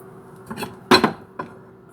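Ceramic bowls and dishes knocked together while one is chosen from a stack in a home kitchen: a few close, crisp clinks and clatters, the loudest in the middle, with no talk.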